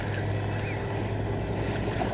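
A steady low rumble of a passing boat mixes with sloshing waves and wind buffeting around a paddle board on open water, constant and fairly close.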